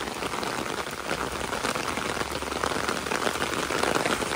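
Steady rain falls hard along a road on an evening walk home from work under an umbrella, a dense even hiss of drops that holds through the whole stretch with no voices.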